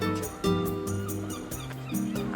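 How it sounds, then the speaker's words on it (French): Seagulls at Trouville harbour give loud, honking calls in a repeating series of short cries, close and overlapping. "avec le bruit des goélands, c'est sensationnel."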